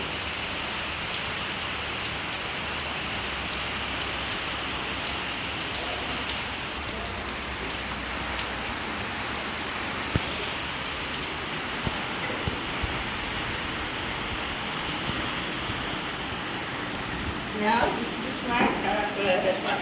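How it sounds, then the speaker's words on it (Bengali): Heavy rain with stormy wind pours steadily and densely throughout, a continuous hiss of drops on surfaces, with faint voices near the end. "বৃষ্টি হচ্ছে প্রচণ্ড পরিমাণে ঝড়ো হওয়া সহ বৃষ্টি"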